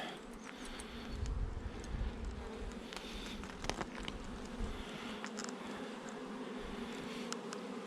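Honeybee colony with a failing queen, buzzing densely inside the hive: a steady, close, continuous drone of many bees with occasional handling knocks.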